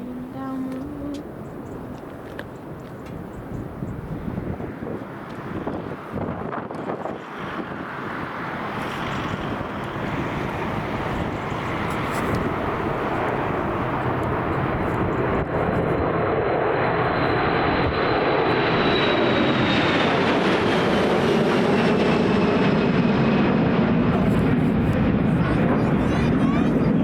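Jet engines of a Jet2 Boeing 737-300 roar steadily, building from a moderate rumble to a loud, rising whine as the aircraft powers up, with wind buffeting the microphone.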